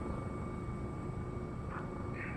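Helicopter in the tactical shooter game Squad, a steady loud engine and rotor drone running throughout with no pauses, with brief higher-pitched whines breaking through near the end.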